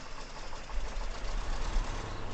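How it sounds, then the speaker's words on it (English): A truck engine in the Spintires off-road game turns over and settles into a low, rumbling idle, with the deep throb rising noticeably about a third of the way in and holding steady, no talking. "switch the engine on"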